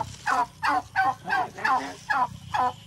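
A turkey gobbles close by in six quick, rhythmic bursts of warbling calls.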